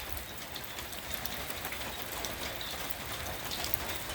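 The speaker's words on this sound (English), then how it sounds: "the rain's a bit more persistent now." Persistent light rain falls in Perlis, Malaysia, an even, dense hiss of drops pattering on surfaces with no talking.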